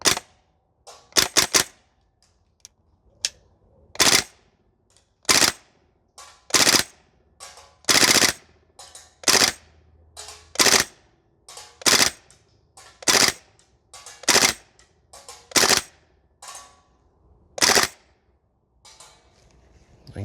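A Maruyama SCP-9 gas blowback airsoft SMG shooting on an outdoor range, with sharp loud cracks fired in quick bursts and singles, spaced irregularly over about twenty seconds, no talking.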